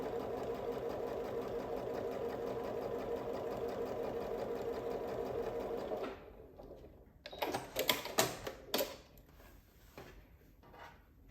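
A sewing machine stitches quilt binding in a fast, steady whir for about six seconds, then stops, followed by a few close clicks and handling knocks of fabric and machine parts; no talking.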